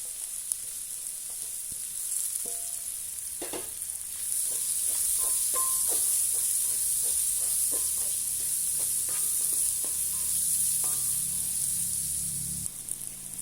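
Onions and shallots sautéing in a pan, a constant bright sizzle with scattered clicks and taps of a spoon stirring, steady and fairly close.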